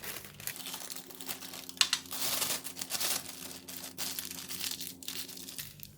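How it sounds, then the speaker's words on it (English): A plastic bag crinkles and rustles steadily up close as tomato sauce is poured into it in a kitchen, with irregular louder crackles over a low background hum. "I'm going to put this tomato sauce in the plastic bag."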